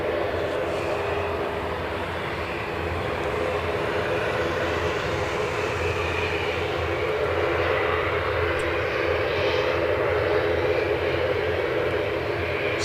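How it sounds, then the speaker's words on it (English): An ATR turboprop airliner at Edinburgh airport gives a steady, loud droning roar with a low engine hum, continuous and unchanging throughout. "I was nearly seduced by the sound of an ATR."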